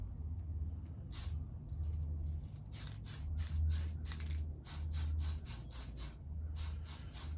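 Short bursts from a spray can lay Tamiya red paint onto model car wheels for a Revell 1937 Ford Pickup kit, a rapid series of crisp hissing puffs over a low steady background hum.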